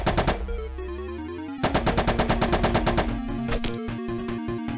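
Rapid bursts of automatic gunfire from a low-recoil gun, loud and close, with a long rattling string of shots followed by more spaced, sharp reports and brief pauses.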